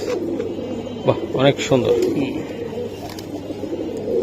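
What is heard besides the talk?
Kaldom pigeons cooing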